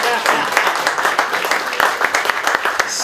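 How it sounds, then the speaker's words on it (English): Audience applause at a press conference, scattered close claps in an irregular patter lasting a few seconds, with some voices underneath. "I'm going to clap for that."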